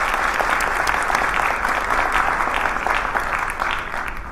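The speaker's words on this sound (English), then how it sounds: "If we can give them a round of applause." An audience at a City of Chicago small business center event applauds the sponsors, Fifth Third Bank and Western Union, with steady, dense clapping filling the room for a few seconds.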